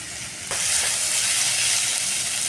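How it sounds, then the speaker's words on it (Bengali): Ginger-garlic paste hits a hot pan of potatoes and onions and bursts into a loud, steady sizzle that starts suddenly and keeps hissing at an even level close up. "ভেজে নেব আলু পেঁয়াজের সঙ্গে"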